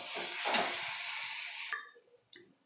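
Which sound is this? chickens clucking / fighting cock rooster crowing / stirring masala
stirring masala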